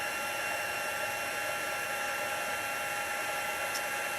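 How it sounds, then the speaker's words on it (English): Handheld craft heat tool blowing steadily at close range to melt embossing powder on a stamped card, a constant airy whoosh like a hair dryer running alone for the whole stretch. "use the heat tool to melt our beautiful embossing powder"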